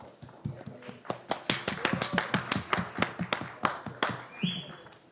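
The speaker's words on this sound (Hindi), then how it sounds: "एक बार जोरदार तालियां हो जाए for the very beautiful Reem Sameer Sheikh." Press-meet audience for Tere Ishq Mein Ghayal claps together, a close run of sharp, irregular claps that quickens and fills in, then thins out toward the end.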